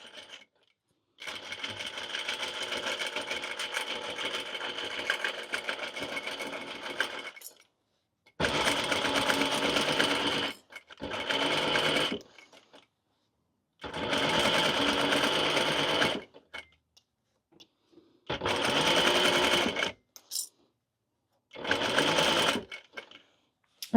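A sewing machine stitches knit fabric for a witch hat with cat ears, running in one long steady burst followed by several shorter bursts separated by pauses, close and loud with no talking.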